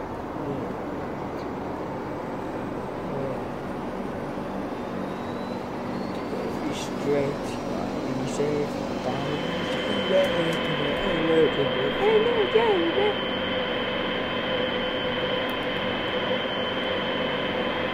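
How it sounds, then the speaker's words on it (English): Airplane engines spool up in a flight simulator game during a taxi at Tivat, a steady rising drone that builds from about nine seconds with a higher whine layered on top, while a person talks throughout. "So, let's turn on our engines."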